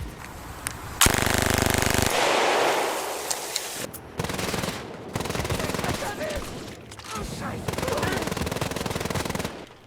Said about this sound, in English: In-game, the machine pistol looks and functions virtually the same as a real-life mini Uzi. It even sounds the exact same.